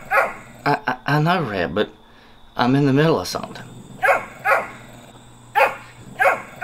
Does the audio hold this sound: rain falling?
no